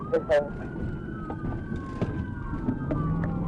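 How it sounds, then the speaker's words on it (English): Police sirens wail steadily in the background during a high-speed chase, a sweeping tone under road noise, with a couple of brief louder bursts near the start. "Sirens blare."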